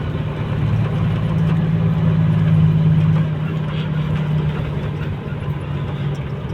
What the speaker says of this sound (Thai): อันนี้รถไถซิ่งนี่มาจากประเทศไทยนะครับ